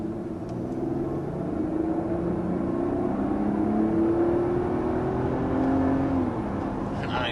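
A 2023 BMW X7 or Mercedes GLS flagship SUV engine pulls strongly under full acceleration toward 60 mph, a steady, loud rumbling drone from inside the cabin with a rising tone and no break.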